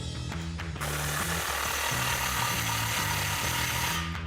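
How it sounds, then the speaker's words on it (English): A 15mm socket ratchet tightens a Magnaflow exhaust clamp at the muffler outlet of a Jeep Gladiator JT, steady close mechanical whirring and clicking with a brief pause partway through, no talk. "Take your 15mm socket to tighten it down."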